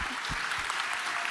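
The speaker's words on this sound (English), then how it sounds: "One huge round of applause." An audience applauds steadily at a science-communication competition final, a dense wash of clapping hands that holds at an even level throughout, with no voices rising above it.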